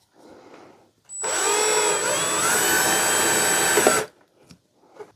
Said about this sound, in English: And then I'm just going to drill a hole.